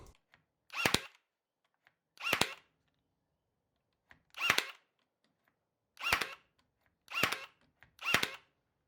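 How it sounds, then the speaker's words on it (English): A Ridgid 18V cordless brad nailer fires six separate sharp shots into a pine 2x4, each a close, crisp snap spaced about a second apart against a quiet background. "we're going to start firing. We're going to use and abuse, and we're going to go into some just pine 2x4."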